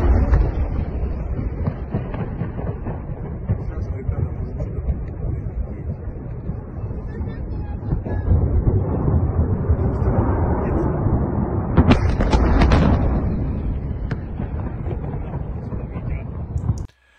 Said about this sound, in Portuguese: Dá para ver uma explosão muito grande e outras munições detonando aqui